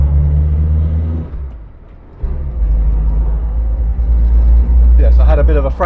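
A classic car named Foxanne, newly back on the road, drives along with a loud low engine rumble from the cabin; the drone dips briefly, then returns, with a person speaking over it near the end.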